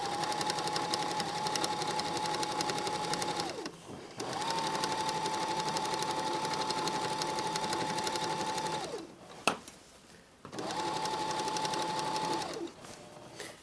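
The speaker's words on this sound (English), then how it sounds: "And I put the needle down, and I sew." A sewing machine stitches a skirt waistband in three long, steady bursts of close, even humming whir, separated by brief pauses, with a sharp click between the second and third runs.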